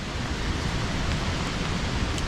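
Steady rain at Nooksack Falls on a wet day, a continuous broadband hiss with a low rumble of falling water underneath, constant and fairly loud throughout with no voices.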